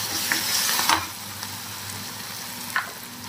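Garlic-ginger paste frying in oil, a steady close sizzle with a few sharp scrapes and clicks of stirring scattered through it.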